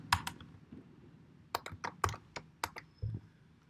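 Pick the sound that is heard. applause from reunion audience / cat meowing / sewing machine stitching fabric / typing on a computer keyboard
typing on a computer keyboard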